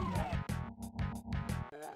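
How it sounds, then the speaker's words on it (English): Totem sound effect in a Doom mod: a loud, rhythmic sequence of harsh tonal bursts with sharp gaps between them, repeating several times in two seconds, with no talk. "I believe that is the sound of the totem."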